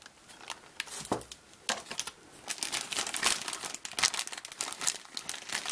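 The thick plastic bag of a 1941 Plymouth Coca Cola 1/25 scale model kit crinkles and crackles close up as it is cut open, dense irregular rustling bursts throughout with no talk.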